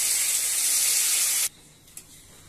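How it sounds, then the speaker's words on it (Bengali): Warm water poured into a pan of fish curry made with tangra fish, a loud steady hissing rush for about a second and a half that cuts off sharply, followed by near quiet and one small clink. "এখন গরম জল ব্যবহার করব।"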